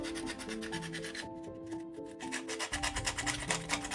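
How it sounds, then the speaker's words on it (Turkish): Rhythmic rasping strokes of sandpaper rubbing on 18650 battery contacts before soldering, steady and close, with a tonal hum running underneath and no talking. "zımparalamamız gerekiyor. Lehimin daha iyi tutabilmesi için."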